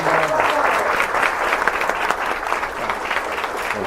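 An audience at a local history lecture applauds to welcome lecturer Jim Garman, with dense, steady clapping from a roomful of people throughout.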